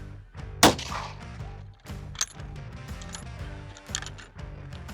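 A single sharp, loud rifle shot from a bolt-action rifle with a hard buttstock cracks out near the start, followed by a fading ring amid background noise.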